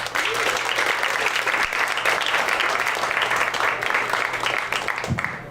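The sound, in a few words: audience applause and cheering for a comedian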